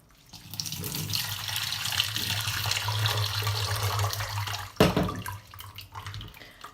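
Water runs steadily from a tap and splashes onto lentil sprouts below, a continuous rushing flow with a brief clatter near the end.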